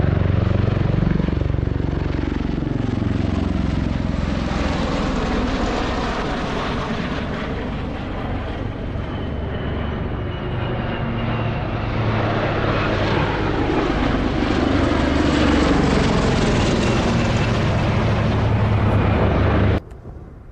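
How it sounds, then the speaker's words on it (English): Propeller aircraft roar overhead during a mass takeoff at Mildenhall for D-Day celebrations, a loud, continuous layered engine drone with shifting pitch as planes pass, cutting off abruptly at the end. "just look at these taking off from Mildenhall. It was a mass takeoff for the D-Day celebrations"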